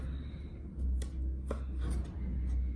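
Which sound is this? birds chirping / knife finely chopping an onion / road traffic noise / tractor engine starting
knife finely chopping an onion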